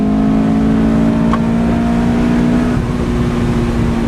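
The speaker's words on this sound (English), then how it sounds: "Honda engines are kind of this, they're so free revving" A modified Honda S2000 engine drones loudly and steadily from inside the cabin, a sustained free-revving rev with a constant hum and no voices.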